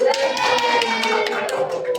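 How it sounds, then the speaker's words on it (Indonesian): Students clapping together in a classroom during an Islamic religious education lesson, applauding group A: a brisk run of sharp, close hand claps with a voice speaking over them. "beri tepuk tangan untuk kelompok A"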